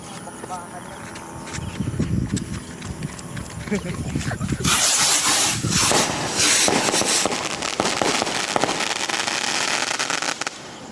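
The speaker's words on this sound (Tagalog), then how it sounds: "Quitis bombshell Librilla fireworks" Quitis bombshell fireworks from Librilla go off outdoors, a dense roaring crackle of rapid bursts that starts abruptly and fills the air loudly, with people talking throughout.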